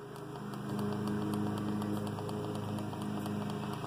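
A lawn mower drones steadily outside with a constant throbbing hum that swells slightly and then holds, muffled and with no voices over it.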